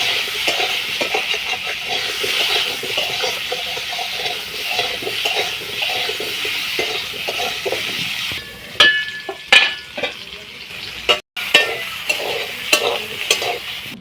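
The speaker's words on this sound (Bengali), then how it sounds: "ওই তেলে আলুগুলো লবণ হলুদ দিয়ে ভেজে নেব।" Potatoes with salt and turmeric fry in oil in a pan, giving a close steady sizzle with stirring scrapes. Sharper spatters and clatters follow in the second half, and the sound briefly drops out once.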